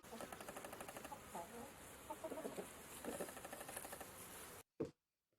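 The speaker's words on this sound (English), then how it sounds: "H for hen." Hen clucking in a children's phonics song, a rapid run of repeated clucks over a steady backing track, moderately loud, then a sudden cut to near silence with one brief final sound.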